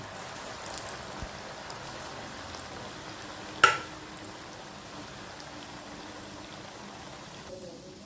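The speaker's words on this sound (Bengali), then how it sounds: "এবার আমি কড়াইশুঁটির নাগেটসগুলো ভেজে নিচ্ছি।" Green pea nuggets deep-frying in hot oil in a wok, a faint, even bubbling sizzle with one sharp knock midway.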